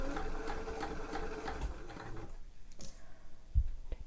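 A sewing machine stitches fabric along a trouser pocket edge, a steady mechanical whir for about two seconds that then drops away, leaving quiet room tone with a couple of faint clicks and a soft low thump near the end.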